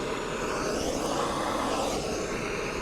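Firemaple Petrel G2 gas stove burner roaring steadily outdoors, its broadband flame rush wavering as a light wind buffets it, continuous and fairly loud throughout with no voices.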